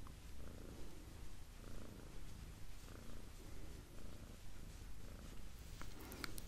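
A cat purrs up close in a steady, rhythmic rumble, each breath cycle audible, soft and continuous with no voices.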